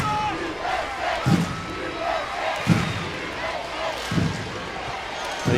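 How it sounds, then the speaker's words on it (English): A stadium crowd in Hartford cheers a send-off for the US women's soccer team after a friendly against Mexico, a sustained roar of many voices with periodic louder thuds and shouts under a commentator's voice. "They are being given a rousing send-off here."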